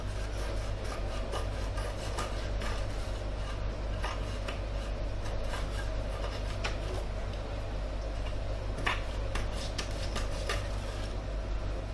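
Steady rasping and rubbing as excess material is trimmed off a wooden icon panel before gesso goes on, a continuous close scraping texture with faint intermittent clicks, no talk.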